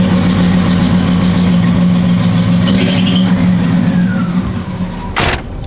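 The engine of a Box Chevy car idles roughly and close by, a steady low rumble that sags and weakens near the end as if about to stall, with a brief knock toward the end and no voices.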